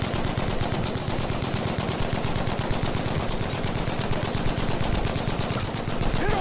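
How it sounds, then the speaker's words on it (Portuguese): Video game gunfire from Battlefield V on Xbox One: loud, dense, nonstop rapid automatic shots rattling throughout, with no pause. "o cara tá parado só atirando"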